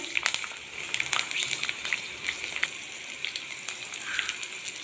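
Garlic sizzling in hot oil for shahi paneer, a steady close crackle with scattered sharp pops throughout and no voices.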